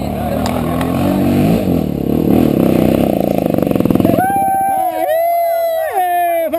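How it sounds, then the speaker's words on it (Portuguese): A trail motorcycle revs and accelerates loudly close by during a friends' dirt trail ride, the engine note rising and falling in bursts, with people shouting and talking around it. "Uma moto dessa tá agarrando, né?"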